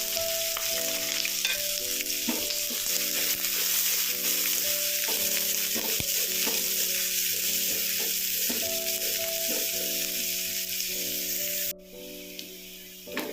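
A medium-sized onion frying in oil with spluttered mustard seeds for egg curry dosa: a close, continuous hissing sizzle with scattered pops and stirring scrapes, steady throughout and dropping away sharply near the end, no talk.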